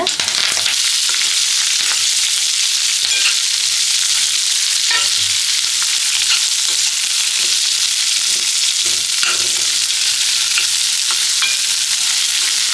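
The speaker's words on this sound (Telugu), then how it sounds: "ఇప్పుడైతే పచ్చిమిర్చి, కరివేపాకు వేసుకోవాలన్నమాట." Green chillies and curry leaves sizzle and spit in hot oil during tempering for poha, a steady loud fry with occasional stirring clinks, no talk.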